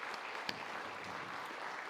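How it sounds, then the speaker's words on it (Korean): A church congregation at a Sunday worship service applauding in welcome, a steady dense wash of clapping from many hands filling the whole stretch at moderate level. "우리 한 번 더 박수로 환영하겠습니다"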